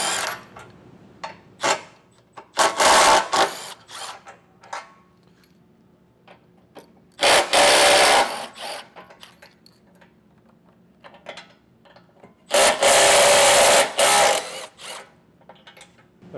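A power tool removes the 15mm bumper beam bolts on a 2013 Fiat 500, three loud bursts of whirring and ratcheting separated by quiet gaps with small metallic clicks and tool handling in between.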